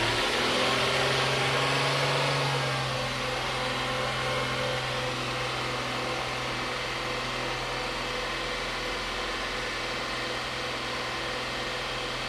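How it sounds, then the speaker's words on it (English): The engine of a 2012 Hyundai Santa Fe, which has a fault that leaves its battery dead over the weekend, holds a steady raised hum and drone throughout, a near, even tone that eases slightly after the first few seconds. "So I'm gonna ask the driver again to rev the engine."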